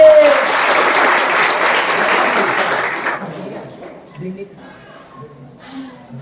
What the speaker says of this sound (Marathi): त्या मुलासाठी जोरदार टाळी वाजलीच पाहिजे